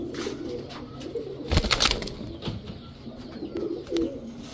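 Chuithal silver green-neck pigeons coo close by in a loft, a soft repeated cooing with a brief flutter or scuffle in the middle.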